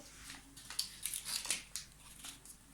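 Paper being folded for origami by hand: quiet, close crinkles and soft creasing rustles in short irregular bursts, with no talking.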